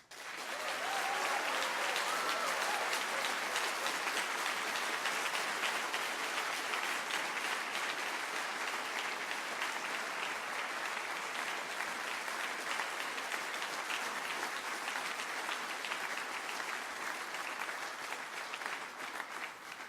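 Sustained audience applause for the sponsors at a student organisation's race car unveiling, a dense, steady wash of many hands clapping that holds loud and even for the whole stretch with no talk over it.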